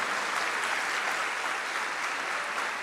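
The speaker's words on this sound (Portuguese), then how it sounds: "Aplaude esse Deus com fé e alegria, mas com muita fé mesmo" A church congregation at a worship celebration applauds in a steady, full burst of clapping that holds evenly for a few seconds with no voices over it.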